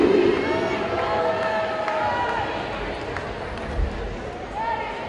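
Crowd cheering and yelling at a 2014 roller derby game between Firing Squad and Denver Bruising Altitude, a steady, loud arena roar with scattered shouts and whistles that holds across the whole stretch.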